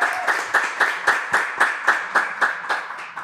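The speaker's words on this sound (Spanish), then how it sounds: "Así que vamos a darle una gran bienvenida y un fuerte aplauso a Marnelis Ocasio." Rhythmic group clapping in an even beat, about four claps per second, moderately loud and sustained.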